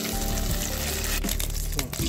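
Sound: tofu frying in oil

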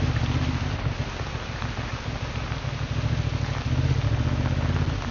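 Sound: rain during a motorcycle ride

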